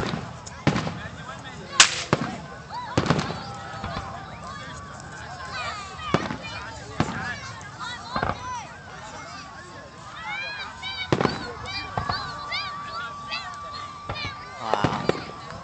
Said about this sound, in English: this is the 4th of July fireworks.